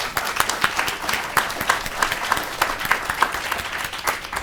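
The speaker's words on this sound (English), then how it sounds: "Give yourselves a round of applause." Steady applause fills a school board workshop as the Lafayette Parish School System celebrates earning accreditation, with dense, even clapping from a room of attendees throughout.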